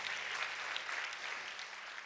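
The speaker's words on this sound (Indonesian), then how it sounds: "tepuk tangan yang meriah buat Tuhan" A church congregation at a revival service in Salatiga breaks into applause, a dense steady wash of clapping heard at a distance and fairly soft, with no talking over it.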